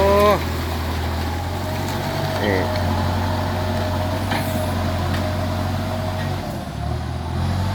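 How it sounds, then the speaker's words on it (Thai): A heavy diesel tractor engine rumbles steadily and close on a rough dirt road, droning low throughout with a brief air-brake hiss near the start and people talking faintly over it. "รถไถมาแล้ว"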